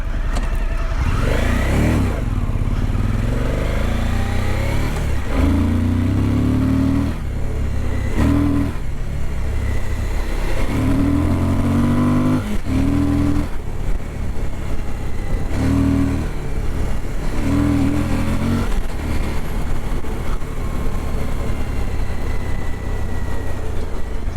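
Suzuki V-Strom 1050 motorcycle ridden on a dirt surface with traction control engaged, its engine loud and close, revving up and easing off in repeated bursts over steady wind rush.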